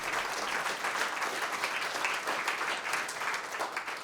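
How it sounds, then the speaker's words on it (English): Audience applause at a library speaker-series talk, a dense, steady wash of many hands clapping throughout, fairly loud and even, with no voices over it. "Round of applause for Philip and Barry."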